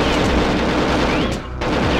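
Enemies in the video game Perfect Dark firing at the fallen player's body, dense rapid gunfire and machine-gun bursts that briefly drop out before resuming.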